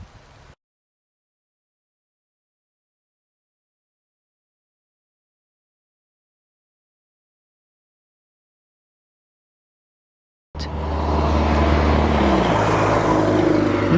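Road traffic in Oregon: after a long stretch of near silence, a loud, steady roar of a car moving on a road suddenly starts and carries on for the final few seconds.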